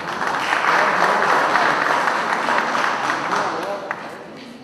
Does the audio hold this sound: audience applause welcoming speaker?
yes